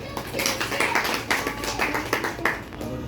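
An audience at a Bengali music tribute event applauds, many hands clapping in a dense, lively burst that stays steady for a few seconds.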